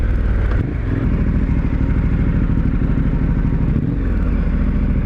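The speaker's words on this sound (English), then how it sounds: "the amount of speed that we're getting just twisting the throttle is pretty impressive" A dual sport motorcycle on Mitas E-10 Dakar tires accelerates under throttle, its engine roaring loud and close with a steady, rising drone and a brief dip between surges.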